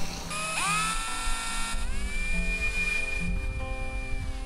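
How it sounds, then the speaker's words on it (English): Power drill boring holes during caravan maintenance, a whining motor rising in pitch and holding a steady high tone as the bit cuts, close and continuous. "And now I'm just drilling a couple of holes in."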